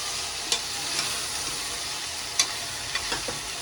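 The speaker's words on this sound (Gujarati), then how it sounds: "ગાજર, વટાણા અને સોયા ચંક્સ નાખી દેવા. પછી આ રીતે મિક્સ કરી દેવાનું." Carrots, peas and soya chunks being stirred in a pan for veg biryani, with a soft continuous sizzle and a few sharp spoon scrapes and clicks against the pan.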